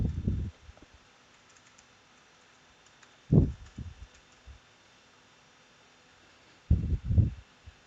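Keystrokes on a computer keyboard come in three short, separate clusters, with quiet gaps between them.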